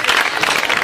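Audience applause, a short burst of dense clapping from a crowd at a film screening event, fairly loud and close.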